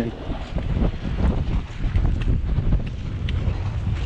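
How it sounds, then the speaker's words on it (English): Strong wind buffets the microphone on a fishing jetty by the water, a continuous low roaring rumble with gusty surges, loud and close, with no talk. "Let me get away from the wind."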